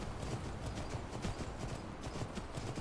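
Horse hooves clip-clop in a steady, rhythmic trot in the video game Skyrim, fairly faint and unbroken over a soft ambient wash.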